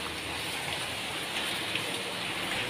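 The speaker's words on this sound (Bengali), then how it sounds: "বৃষ্টি এসে গেল" Steady rain pours down outside a home, a dense, even hiss of drops with no pauses and no voices, holding at the same moderate level throughout.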